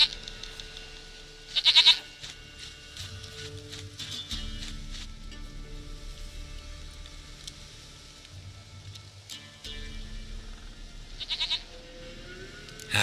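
Goat bleating in the video game The Witcher 3: Wild Hunt, a couple of short, wavering bleats at moderate distance over a low game ambience and background music.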